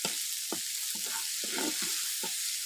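Spices frying in a pan with turmeric powder, cumin powder and ginger-garlic paste are stirred, giving a steady sizzle broken by a series of short scraping strokes, close and moderately loud, with no talk.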